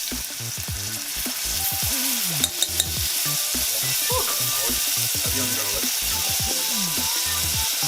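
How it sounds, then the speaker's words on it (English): Garlic and onions sizzle loudly and steadily in a pan, a dense close frying hiss that fills the whole stretch, broken only by a couple of brief clinks partway through. "Where it's not notable is just to release the flavors of the garlic and the onions"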